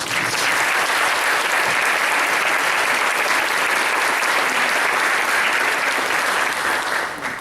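An audience at a nutrition department's 60th anniversary ceremony breaks into loud, sustained applause, a dense wash of clapping that holds steady for several seconds and then begins to taper at the end.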